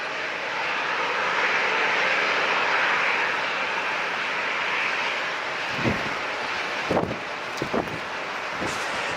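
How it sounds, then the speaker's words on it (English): A United Boeing 737-8 airliner landing at San Diego International, a broad roaring jet engine rush that swells and holds, then fades under gusty wind buffeting and thumps on the microphone. "our next landing is none other than United flight 1147 coming in from Frisco up north, 737-8, 1 hour, 7-minute flight for them"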